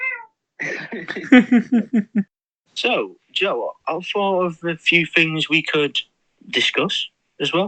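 A visiting cat meows briefly in a home during a podcast recording, faint and intermittent beneath steady conversation between two men.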